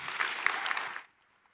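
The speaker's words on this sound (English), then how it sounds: "I would like to invite a round of applause to welcome you" A short burst of audience applause greets a keynote speaker at a conference, dense clapping that fills the room for about a second before cutting off into near silence.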